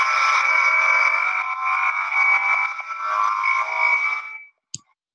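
A race car engine on a hillclimb lap holds a loud, steady high-pitched note for several seconds, then cuts away abruptly to silence, followed by a single brief click.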